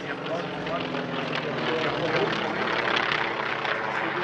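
A T-28B trainer powered by a 1,425 horsepower Wright 1820 radial engine drones steadily and loudly at an airshow, a continuous rumbling roar under a voice talking.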